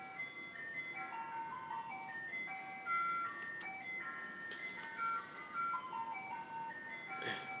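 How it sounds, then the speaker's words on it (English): An ice cream truck plays its chiming jingle melody outside, a steady tinkling tune running the whole time at moderate distance, with a faint passing vehicle near the end. "And ice cream trucks outside."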